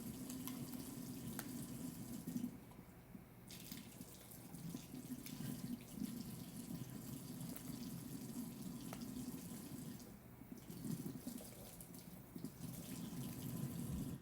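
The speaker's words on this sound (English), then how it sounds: "once we get the balloon filled with water" Tap water runs steadily into a balloon, a close, continuous gushing stream with no talking over it.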